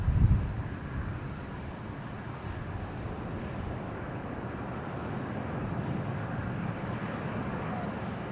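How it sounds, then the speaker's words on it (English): A Jetstar Airbus A321 lands on runway 25 at Sydney, a steady broad roar of engine and air noise holding evenly throughout at moderate distance, with a brief louder gust at the start. "landing on runway 25 here at Sydney is Jetstar Flight 516 from Melbourne, an Airbus"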